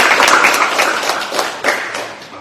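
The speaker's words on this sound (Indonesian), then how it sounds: "tepuk tangan buat diri sendiri." Audience in an Indonesian church talk clapping for themselves, a brief burst of dense, close clapping that swells and fades over a couple of seconds, with a second flurry near the end.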